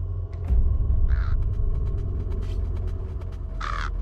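A crow in a video game gives two loud, separate caws about two and a half seconds apart over a low background rumble. No one speaks.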